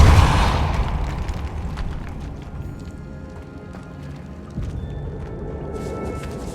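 A Depulso force spell is cast in the Hogwarts Legacy game inside a decayed catacomb, opening with a sharp broadband burst and followed by a low rumbling ambience and a softer thud later on.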